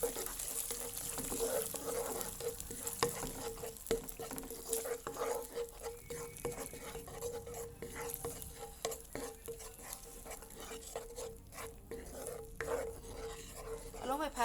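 Fried chicken wings are stir-fried with tomato sauce in a pan, giving a quiet, continuous sizzle with repeated scraping and stirring clatter and a faint steady hum beneath.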